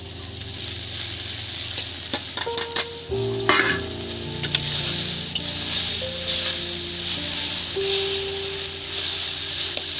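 Fish roe sizzles loudly and steadily as it drops into a hot frying pan of oil for a Bengali eggplant and fish-egg curry, with a dense crackle that runs from start to finish.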